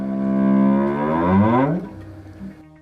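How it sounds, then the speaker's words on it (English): Gravitational wave detector signal slowed down 150 times: a rising harmonic whoop, loud and alone, its pitch sweeping upward and ending abruptly, followed by a faint low tail. "We often listen to the signal from the gravitational wave detectors, and what we hear is a whoop."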